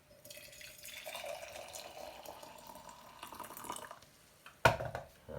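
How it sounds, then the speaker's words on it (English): Hot water pours steadily into a glass, a soft trickling stream that ends with a sharp clink near the end. "Pour some hot water."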